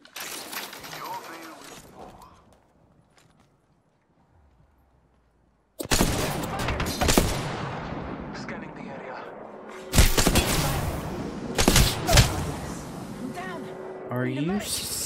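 Gunfire in the shooter game Apex Legends: scattered shots early, then a quiet stretch, followed by loud bursts of rapid fire and sharp impacts with a voice talking over them.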